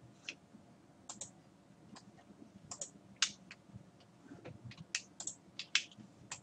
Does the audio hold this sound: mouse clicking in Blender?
yes